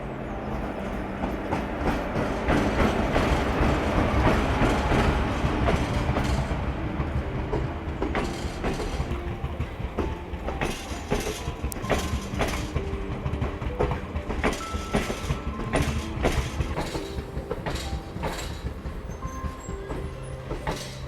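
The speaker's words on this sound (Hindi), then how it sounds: "बिल्कुल देखो अराइवल हो रहा है रानी खेत एक्सप्रेस।" The Ranikhet Express pulling into an Indian railway station, a loud continuous rumble of wheels and carriages with rhythmic clatter over rail joints and occasional squeals, sustained throughout, no voices.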